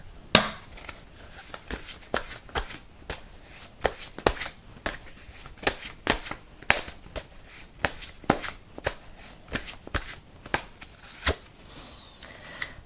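Tarot cards shuffled by hand close up, a quick run of crisp riffling and tapping bursts repeating in a steady rhythm throughout, with no talking.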